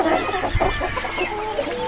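Foreign-breed chickens cluck on a farm, several birds giving close, overlapping clucks and short calls in a busy, continuous flurry.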